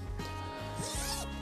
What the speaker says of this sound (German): mit einem sehr leichtgängigen Reißverschluss. Man sieht, man kann sogar beide ganz easy runterziehen.